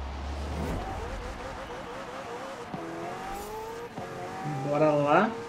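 Race car engines rev and whine at the start of a Forza Horizon 4 race, rising tones stepping up through gears with a louder burst near the end, while someone talks over the game audio.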